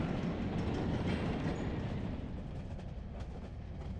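A rail cart rumbles along tracks in the video game Enderal, a dense continuous low roar with faint clickety-clack, steady and close throughout with no voices.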